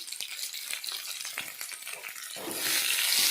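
Curry leaves and green chilies fry in hot oil in a pan for tomato gojju, a steady close crackling sizzle with stirring clicks that swells into a louder, denser hiss near the end.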